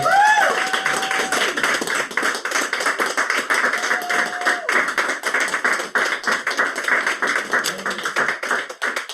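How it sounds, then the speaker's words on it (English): A poetry-reading audience gives a poet a dense, sustained round of applause that stays steady and loud throughout, with a couple of brief whistle-like tones near the start. "can we have a big huge round of applause for Stan Nong?"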